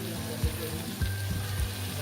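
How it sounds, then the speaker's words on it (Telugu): Brinjal frying in a pan gives a steady low sizzle under a faint background hum, with a few soft bumps as the pieces shift. "వంకాయ ఫ్రై అవుతుంది"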